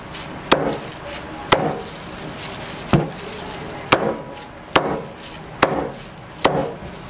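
A whole roast Cebu lechon is hacked apart with a heavy blade, seven sharp, loud chops landing at a slow, fairly even pace, close up with quiet room noise between strikes.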